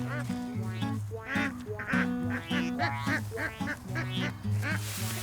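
Ducks quack repeatedly in a lively, overlapping chatter, close by on farmland on Kyushu Island, Japan, with steady rhythmic calls throughout and no talking.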